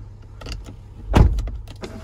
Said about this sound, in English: One of the other things that I like about this car is that it has a sunroof and a moonroof.